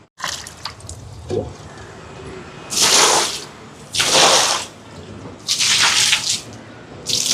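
Water poured into a cooking pot while fish curry is being made for a charity meal, heard as three separate rushing, splashing pours of about a second each over low background noise.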